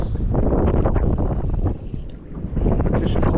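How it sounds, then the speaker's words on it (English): Wind on Percy Priest Lake buffeting a microphone on a fishing boat, loud gusting rumble with choppy water slapping the hull, easing briefly midway before rising again. "Wind picked up"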